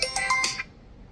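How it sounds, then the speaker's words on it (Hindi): A mobile phone rings with an incoming call, a short bright melodic ringtone of four quick tones, close and clear before fading out. "ये हमारे किसका फ़ोन आ रहा है?"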